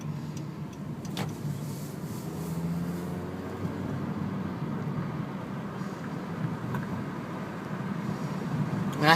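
Steady wind and road roar pours through an open window of a moving 2012 Honda Civic EX-L, a continuous loud rush that swells slightly toward the end.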